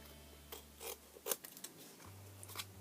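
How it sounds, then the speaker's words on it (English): Scissors snip carefully around the edge of a paper coffee cup, several short, quiet cuts close by with a faint background hum. "Now I'm going to take the scissors and I'm just going to carefully"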